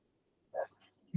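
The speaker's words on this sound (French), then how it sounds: "C'est le chien qui aboie." A dog lets out a couple of short, faint barks or yips, quiet and somewhat distant, in a home kitchen setting with no talk over them.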